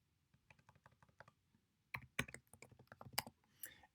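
Keys clack on a computer keyboard while a C++ program is typed. Soft, quick taps come first, then louder, sharper strikes arrive in uneven bursts, close and isolated with no voices.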